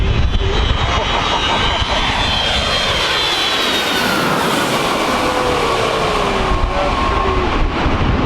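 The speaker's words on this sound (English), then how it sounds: "Let's just watch the airplanes today, guys." A loud jet engine roars overhead, swelling and sweeping in pitch as the aircraft passes close by, continuous throughout.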